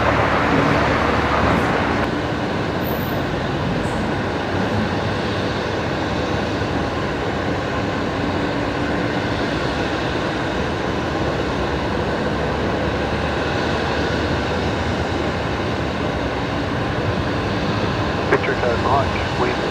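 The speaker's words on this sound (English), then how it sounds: "A330 rolling." An Airbus A330 jet takes off at night at Brisbane Airport, a broad, continuous roar heard from a distance that holds steady throughout, with brief talking near the start.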